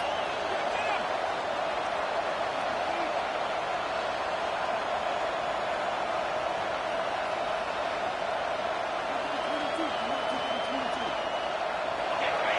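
Crowd noise fills a college football stadium during Oregon vs Washington: a dense, steady roar that stays loud and unbroken throughout, with no clear pauses or individual voices standing out.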